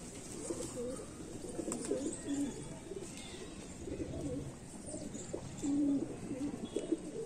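Sialkoti pigeons coo softly and repeatedly amid steady background hiss, with occasional faint chirps from other birds; no one speaks.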